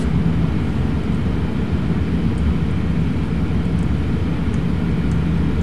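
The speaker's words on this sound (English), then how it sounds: "Taxi into position and take off." A STOL plane takes off in the game Flight Simulator X, giving a loud, unbroken engine roar that holds steady throughout without any speech.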